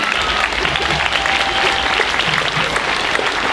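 Outdoor crowd at a medieval festival show applauding a performer after a water-skiing feat, a thick, continuous roar of clapping hands that holds steady and loud throughout, with a low rumble beneath.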